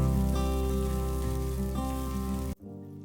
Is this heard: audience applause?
no